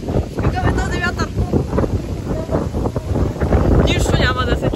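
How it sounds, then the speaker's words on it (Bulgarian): Strong outdoor wind buffets the microphone with loud, continuous low rumbling and gusts, while someone talks over it. "Мале, какъв е този вятър? Какъв е този вятър?"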